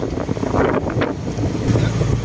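Strong wind at sea on a fishing boat roars and buffets the microphone continuously, a loud, dense rumble with brief gusting surges and no speech.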